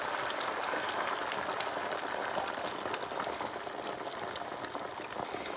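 Scrambled eggs hit a hot cast-iron skillet slicked with southern pecan oil, giving a loud, steady hiss and crackle that runs unbroken for several seconds.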